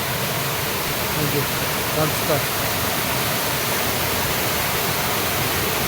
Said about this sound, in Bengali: ঝর্নার জল পড়ছে